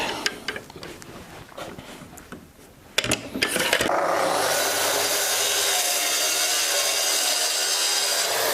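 A track saw cuts along a clamped guide rail through a wooden slab for a river table, a loud steady whine and rip that starts partway in after some scattered knocks and handling sounds.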